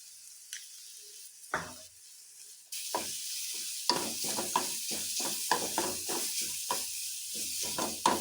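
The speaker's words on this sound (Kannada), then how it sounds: "ಗರಂ ಮಸಾಲ ಆ್ಯಡ್ ಮಾಡಿ ಸ್ವಲ್ಪ ಫ್ರೈ ಆದಮೇಲೆ ಗ್ಯಾಸ್ ಆಫ್ ಮಾಡ್ಕೊಂಡು" Masala with a spoonful of garam masala fries in a pan on a gas stove, starting with a few isolated scrapes before a steady sizzle rises, overlaid by frequent rhythmic stirring and scraping strokes.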